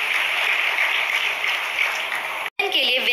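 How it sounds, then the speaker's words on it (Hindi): Sustained applause from an audience at a Ladli Laxmi Utsav celebration in Madhya Pradesh, a dense continuous clatter of many hands that cuts off abruptly near the end before resuming briefly. "एक बार जोरदार तालियों से इनका धन्यवाद किया जाए।"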